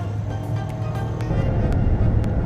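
Volvo S90 T5 Momentum large sedan pulling hard from a standstill at a red light, its engine droning steadily under a broadband rumble that swells toward the end, with sharp ticks or shifts along the way.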